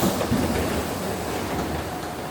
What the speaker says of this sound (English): You'll often find yourself standing on a wide, empty platform, with a short train stopping somewhere in the middle.